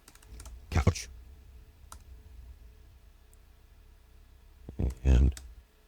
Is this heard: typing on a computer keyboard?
yes